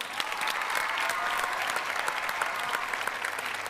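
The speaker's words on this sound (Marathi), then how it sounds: "जोरदार टाळ्या झाल्या पाहिजेत" Loud, sustained applause from a studio audience at a Marathi comedy show welcoming famous classical musicians, dense continuous clapping with no pauses.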